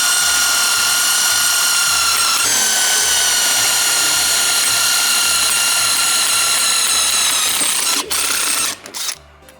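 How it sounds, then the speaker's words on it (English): A power drill fitted with a step drill bit bores into thick steel during a Winnebago RV washer fluid reservoir repair, giving a loud, steady whine for about eight seconds before cutting off with a short clatter. "If we can get through it with this unibit even"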